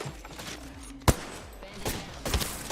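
Gunfire in a video game: a sharp close shot cracks out near the middle, followed by a denser cluster of shots toward the end, over a low background rumble.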